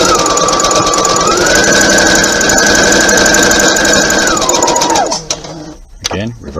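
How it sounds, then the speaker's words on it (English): A sewing machine stitches a thumb-hole cuff, running steadily and loudly for about five seconds with a pitch change midway, then slowing and stopping into a few short bursts and handling clicks. "press your foot down, roll the wheel down, stitch forward, reverse stitch"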